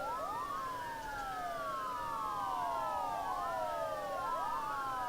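Wailing ambulance sirens in the video game SimCity (2013) sweep up and down in overlapping cycles, steady and moderately distant, with no talking.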